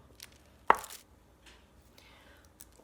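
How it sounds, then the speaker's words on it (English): A single sharp knife chop through a firm block of soap, close and crisp, with a few faint scraping sounds around it in a quiet room. "Chop your soap block into smaller pieces."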